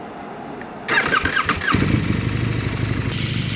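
A 2022 KTM GT motorcycle engine cranks with a short, loud starter whirr, then fires and settles into a steady, close rumbling idle.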